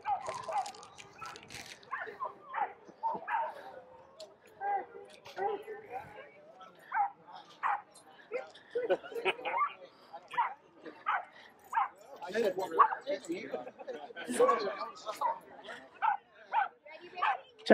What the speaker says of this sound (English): Check out this Australian Shepherd, guys.